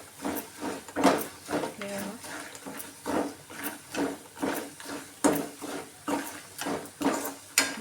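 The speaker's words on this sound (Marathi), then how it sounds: "दोन तीन मिनटं असं तेलामध्ये चांगले परतून घेऊया असे शेंगदाणे" Peanuts being stirred and roasted in oil in a pan, heard as steady rhythmic scraping and rattling strokes about once per second, close and moderately loud, with a voice speaking over them.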